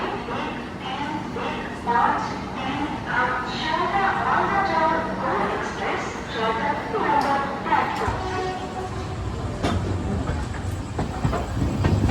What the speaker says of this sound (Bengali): 10টা 5 ট্রেন তার নির্ধারিত সময়ে শিয়ালদা স্টেশন থেকে ছেড়ে বেরোচ্ছে তার যাত্রাপথের উদ্দেশ্যে।